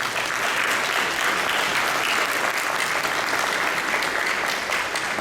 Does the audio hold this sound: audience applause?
yes